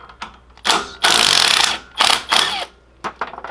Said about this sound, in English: going to unbolt this U-joint. It's got 2 1/2-inch bolts in it.